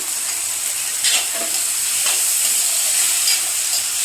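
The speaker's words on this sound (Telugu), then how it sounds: "జీలకర్ర ఇది బాగా వేగుతున్నాయి కదా" Cumin seeds frying in hot oil in a pan for a tamarind pickle, giving a steady close sizzle and hiss with a few stirring scrapes and no talk.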